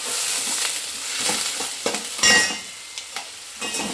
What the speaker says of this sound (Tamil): இப்படி எல்லாத்தையும் நல்லா வதக்கி விட்டுக்கலாம்.